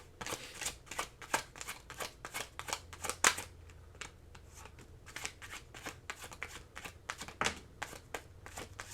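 Tarot cards are shuffled by hand in a quiet room, a rapid series of crisp riffling and snapping bursts repeating steadily for several seconds, close and fairly soft.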